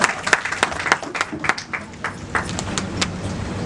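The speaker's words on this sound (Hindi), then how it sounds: "अगर तालियां बजाते रहेंगे तो बहुत मजा आएगा।" Clapping at a club cabinet meeting, close and fairly loud, with several uneven bursts of hand claps over a busy room murmur and some background noise.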